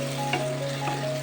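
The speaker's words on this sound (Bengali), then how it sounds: "আর একটু খুন্তির সাহায্যে পেঁয়াজটাকে আর টমেটোটাকে স্ম্যাশ করতে থাকবো।" Onion and tomato frying in a pan for an egg curry, a continuous close sizzle with faint scrapes of a spatula stirring and mashing them, no voices.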